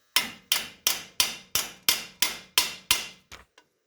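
A hammer strikes, hand-riveting stainless steel skillets together: nine sharp, ringing metallic blows in an even rhythm, close and loud, then two lighter taps to finish.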